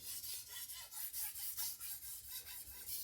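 Knife blade rasping back and forth across a diamond Atoma sharpening plate, a steady run of close, gritty strokes with brief pauses between them and no voices.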